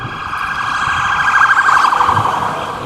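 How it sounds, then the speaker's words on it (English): An ambulance siren wails steadily as the vehicle passes by, moderately loud with a warbling rise and fall. It carries on alone over faint background noise. "the ambulance was just passing by"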